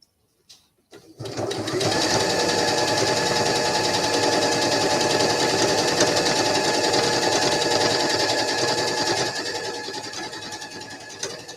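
A sewing machine stitches a doll seam after a couple of brief starting clicks, then runs as a steady, rapid mechanical whir that holds close and even for several seconds before slowing slightly near the end.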